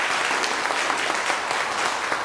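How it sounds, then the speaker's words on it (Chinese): A church congregation at a Taiwanese-language Sunday service breaks into steady, dense applause that holds at an even level throughout, with many hands clapping together. "咱有若用鼓掌来鼓励。"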